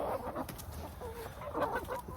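A pet hen held in someone's arms gives soft, low clucks and murmurs in short irregular bursts, close by with faint room noise in between.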